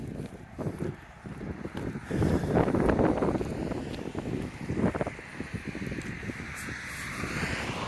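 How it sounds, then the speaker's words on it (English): Gusts of wind buffet the microphone, rumbling and swelling unevenly, with faint outdoor background noise underneath. "I realize it's windy here."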